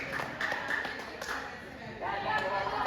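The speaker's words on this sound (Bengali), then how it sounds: "দীপের জন্য জোরে একটা হাততালি হয়ে যায়।" Scattered clapping from a small crowd at a school cricket match between class 9 and class 11 teams, moderately distant and uneven, with voices talking over it.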